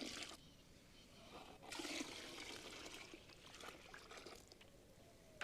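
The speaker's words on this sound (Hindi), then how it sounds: "लेकिन पहले 10 लीटर हमने पानी लिया था और अब 10 लीटर गौमूत्र डाल रहे हैं।" Cow urine pours into a tobacco and water mixture, a continuous splashing, gurgling stream that swells midway and then settles into a steadier trickle, faint overall.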